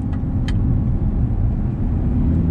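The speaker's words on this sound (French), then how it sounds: "Quel bruit magnifique qui fait ce V10 aussi, hein." An Audi R8 V10 sports car engine with a new exhaust system drones steadily with a deep, continuous exhaust rumble, close and loud throughout.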